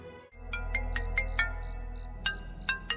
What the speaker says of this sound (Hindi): बड़ी आपा का फोन है।